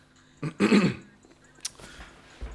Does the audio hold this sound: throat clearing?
yes